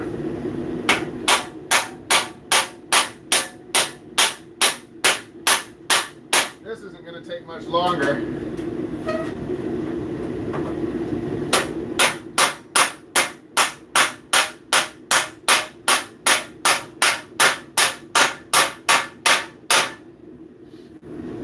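A blacksmith hammers a large metal lid for a cooking vat, straightening its edge with long runs of sharp, evenly spaced ringing blows, close and loud, broken by a pause where someone speaks.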